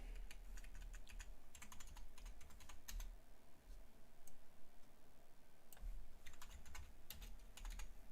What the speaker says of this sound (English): You see how I'm typing in capitalization?